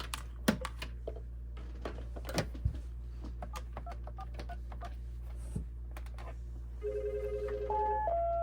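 A Mitel 5330e desk phone first gives scattered keypress clicks, then starts an electronic ring: a steady warbling tone that plays close and clear through the final seconds.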